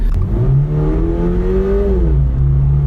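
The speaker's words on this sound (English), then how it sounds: "we are accelerating up to the New York State maximum speed limit of 55 miles an hour" Toyota GR86 with a manual gearbox accelerating on a road, a loud close engine note rising in pitch then dropping briefly as with a gear change, steady cabin rumble underneath, no talking.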